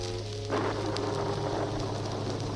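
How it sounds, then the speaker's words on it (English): Steady rain, a storm sound effect on a 1973 spooky storytelling record, dense continuous hiss and patter under a low hum with faint thunder-like rumble, no voices. "Not even if it was raining harder than ever."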